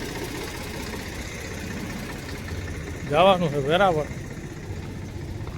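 A loaded tractor engine idles with a constant low rumble throughout, and someone speaks briefly over it partway through.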